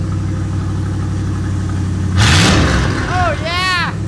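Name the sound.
Ford Ranger 5.0 engine revving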